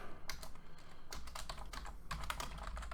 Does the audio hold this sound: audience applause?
no